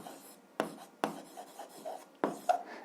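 A pen writing on paper during an algebra lesson, scratching in short bursts with a few sharper strokes, quiet and close with no voice.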